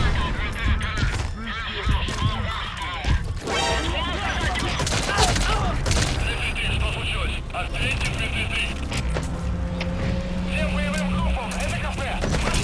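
Rapid bursts of gunfire crackle through a Metal Gear Solid V firefight, shots clustered and overlapping, with clanking mechanisms and voices talking over the steady, dense din.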